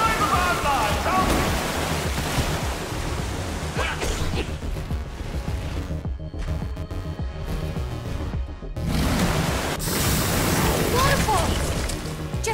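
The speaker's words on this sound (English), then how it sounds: "Waterfall!" Water rushes down a waterfall in Minecraft: Story Mode, a loud, dense roar that fills the scene and dips briefly midway, with voices speaking over it.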